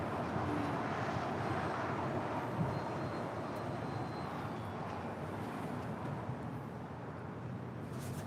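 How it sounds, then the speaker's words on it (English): A Japan Airlines Boeing 787-9 Dreamliner departs at a distance, its engines a steady, moderately faint broadband roar that holds evenly and eases slightly toward the end, with no talking. "That is Japan Airlines Flight 61 departing to Tokyo Narita on a"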